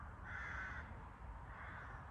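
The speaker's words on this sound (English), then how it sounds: "Sounds like a lot of crows in this bit of forest behind me." Many crows cawing in a patch of woodland behind a campsite at Morley's Farm near Sevenoaks, a loud, continuous chorus of overlapping harsh calls with no one speaking.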